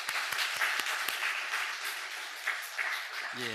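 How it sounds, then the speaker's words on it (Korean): A Korean church congregation applauds to welcome a mother and her children attending the service. The clapping is steady and full, carrying on for several seconds and ending as a voice begins to speak. "환영의 박수 한번 쳐주시기 바랍니다."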